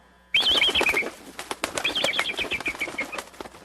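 Eagle wings flapping in an audiobook sound effect, two bursts of heavy rapid beating with bright whistling cries over them, close and loud, the second burst trailing off into rustling.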